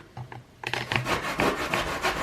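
Food rasped on the fine side of a hand grater while making Jamaican dukoonoo (blue draws), a quiet start followed by steady, rhythmic scraping strokes close by.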